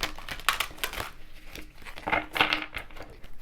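Cards riffle and flutter in quick bursts of crisp, papery snaps, close up with no talking.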